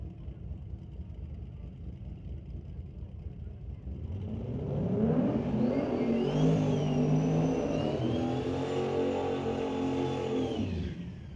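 At a Limited Street drag racing final, race car engines idle in a low rumble, then swell into a loud sustained revving roar with rising and falling pitch before easing off.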